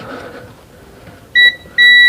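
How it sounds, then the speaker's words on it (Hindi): Multimeter continuity buzzer sounding while probing a voltage stabilizer's power lead, two sharp steady electronic beeps, a short one then a longer one, after a brief quiet stretch. "जो हमारा जो मल्टीमीटर है वो बजर की आवाज़ दे रहा है"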